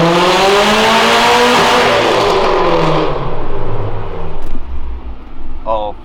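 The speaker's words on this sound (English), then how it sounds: "They said they're throwing the car in the dyno." A car revving hard on a dyno in a cold outdoor setting near Marietta, a loud sustained engine roar with rising and falling tones that fades out toward the end, with people talking over it.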